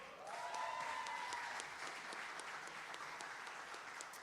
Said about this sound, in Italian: Gloria a Dio, un applauso.